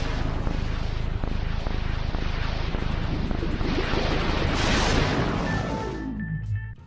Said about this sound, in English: So the original Xbox startup sound